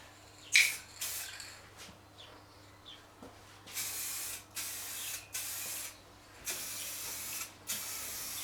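Aerosol coating sprayed onto the outside of a pitted chrome Boulevard C50 motorcycle rear rack, in a series of close, loud hissing bursts of a second or so each, separated by brief pauses, with no talking.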